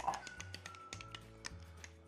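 Wing sauce made with a red hot-sauce base gets stirred in a bowl, giving soft, quiet clicks and taps in an irregular rhythm, close and low in level with no talking.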